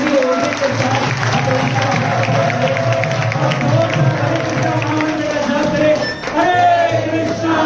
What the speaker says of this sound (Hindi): तो एक बार जोरदार तालियां दो स्टैंडिंग ओवेशन के साथ